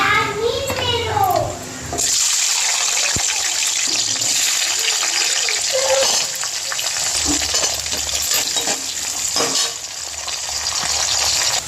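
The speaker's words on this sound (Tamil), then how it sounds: "இது ரெண்டுத்தையும் போட்டு வதக்கிக்கலாம்" Shallots and garlic sautéing in a pan, with a loud sizzle and stirring clatter that run under the talk of a voice heard partly over them.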